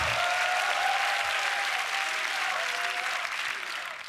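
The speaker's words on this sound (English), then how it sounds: "Make some noise. Give it up for FRIIDON" Steady, dense audience applause and cheering fill a beatbox battle hall at the Grand Beatbox Battle 2023, a loud sustained roar that holds throughout and eases slightly at the end.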